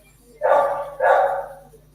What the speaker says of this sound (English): Oh, he's barking now.